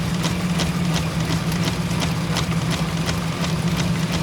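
A pedal-operated drain cleaning machine spins its cable down a drain, giving a steady low motor hum with a rhythmic ticking clatter running throughout, close and continuous with no talking.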